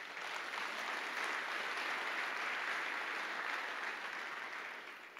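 An audience at a talk on mentoring breaks into sustained applause, a dense wash of clapping that holds steady for about five seconds before easing slightly at the end, with no voices over it.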